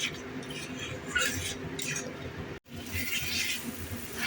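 Masala fried with yogurt for a fish curry, with soft sizzling under metal spoon scrapes and clinks against the pan, a brief gap midway, then more stirring.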